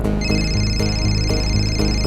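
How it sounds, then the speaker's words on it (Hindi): A phone ringtone plays upstairs in a steady repeating electronic pattern, continuous and fairly loud, with no talking. "घंटी की आवाज शायद ऊपर से आ रही है"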